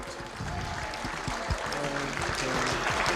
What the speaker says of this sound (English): Round of applause for Team number 12.